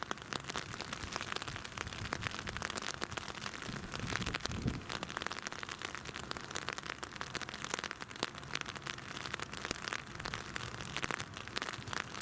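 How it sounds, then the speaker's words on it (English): Steady rain falls in cold, wet weather outdoors at an airport, a dense continuous hiss of drops on surfaces with brief sharper patters, fairly close and holding an even level throughout with no talk. "as you can probably hear, folks, it is raining again"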